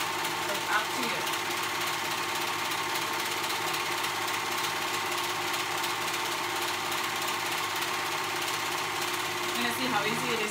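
A sewing machine stitches a small baby bean bag, a continuous even mechanical whir running steadily throughout, with a voice talking over it.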